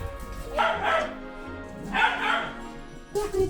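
A dog barks in two short bursts of yips and whimpering woofs close by, in a house where it is being left with a dog sitter, with a brief further bark at the end.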